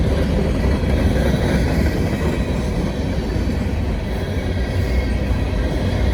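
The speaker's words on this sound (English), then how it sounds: "Northbound coal train on track 2." A northbound coal train rolls past on the track, a loud, steady rumble of wheels and cars filling the whole stretch with little change.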